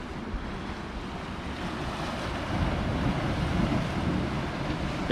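Sea water surging and gulping in a rocky cave below the cliffs at Cape Cornwall, a steady low wash of surf with wind rumble, building slightly louder toward the end, no voices.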